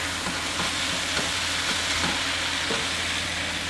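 Egg fried rice being stir-fried on medium heat, a steady dense sizzle with a constant rumble and faint periodic scrapes of stirring, close and unbroken throughout.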